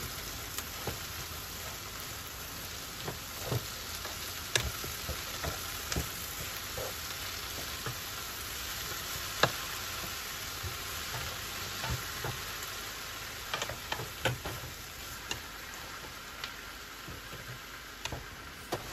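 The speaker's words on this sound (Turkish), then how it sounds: "Bu şekilde azar azar ekleyerek karıştıra karıştıra ıspanağın hepsini kavuralım." Spinach and onions stir-fried together in a pan over high heat give a steady, dense sizzle with scattered small crackles and ticks throughout, close and continuous with no voices.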